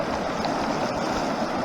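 Water in a stream near a Colorado trailhead flows as a steady, broad, close rushing wash with no pauses.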